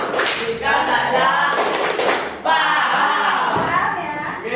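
A sixth-grade class claps a rhythmic hand pattern together, loud close claps and thumps mixed with children's chanting voices throughout.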